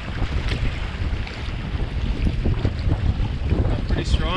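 Wind buffets the microphone while choppy waves slap against a paddled boat on a huge wilderness lake, a loud, continuous rush with irregular splashes.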